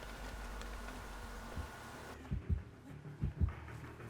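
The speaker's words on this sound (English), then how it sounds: "you start to hear heartbeats" The Dead by Daylight heartbeat warning thumps low and muffled, a handful of paired beats emerging in the second half as the background ambience drops away.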